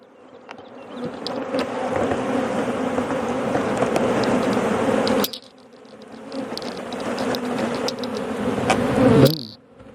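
A dense swarm of honey bees buzzes loudly and steadily up close around a hive during installation, briefly dropping off midway before swelling again, then cutting out near the end.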